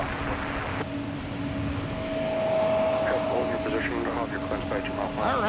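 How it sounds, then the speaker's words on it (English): An Airbus A220 jet at Minneapolis airport hums up close with a steady engine drone and a sustained tonal whine, while people talk over it. "we got to have an up-close look and listen to the ubiquitous, we'll call the Airbus A220"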